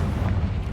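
A Confringo fire spell bursts in Hogwarts Legacy, a single deep, rumbling blast heard close and loud with no voices.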